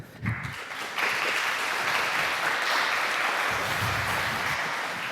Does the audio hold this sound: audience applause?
yes